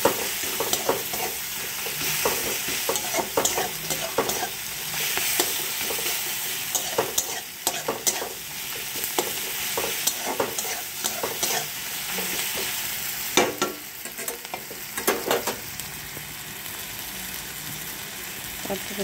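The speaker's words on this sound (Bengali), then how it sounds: "ভালো করে নাড়াচাড়া করে" Food fries in a pan while being stirred, a continuous loud sizzle broken by frequent scraping strokes of a spoon against the metal, with a voice speaking faintly at times.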